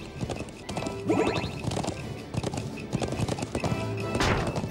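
Rapid clip-clop of horse hooves galloping in the video game Trails of Cold Steel during a race course lap, with a horse whinny partway through and game sounds around it.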